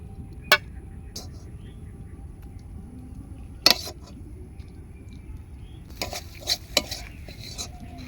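Banana flower curry, finished with garam masala and sugar, is stirred in a pot: sparse metallic spoon clanks and scrapes over a low background hum, with a cluster of quicker strokes toward the end.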